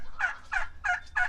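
A turkey hen shut inside a chicken coop gobbles in protest, four loud, evenly spaced calls about a third of a second apart, close by and alone on a farm.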